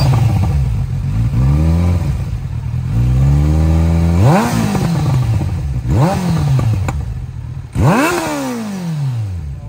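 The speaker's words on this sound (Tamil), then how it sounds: "இருங்க த்ராட்டில் பண்ணி காட்டுறேன் எப்படி இருக்குன்னு சொல்லி சவுண்டு பாருங்க." A Kawasaki Z900 motorcycle engine is revved hard with the throttle, close and loud. About four sharp rising blips fall back to a rumbling idle.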